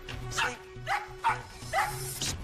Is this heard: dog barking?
yes